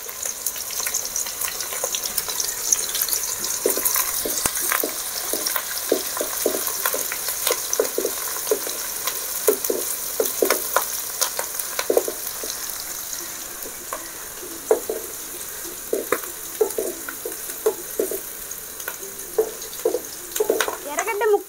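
Chopped onions, curry leaves and green chillies frying in oil, a continuous close crackle dotted with scattered small pops and spits that runs steadily throughout.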